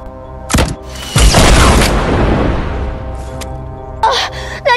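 A rocket explosion in the Fortnite video game lands as a deep boom with a rumbling tail, framed by a player's gasps and exclamations before and after.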